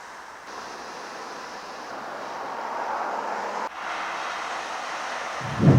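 Ocean surf at Ormond Beach, Florida, a steady washing hiss of waves with wind buffeting the microphone, moderately loud and continuous, with a louder gust at the very end.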